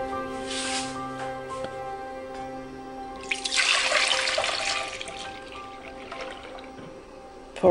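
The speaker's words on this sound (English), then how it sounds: "Pouring the milk." Milk poured into a pot on a stovetop over medium heat for homemade ricotta, a steady splashing stream that swells for a few seconds, then tapers to a trickle, close by.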